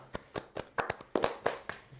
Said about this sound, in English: Little round of applause, boys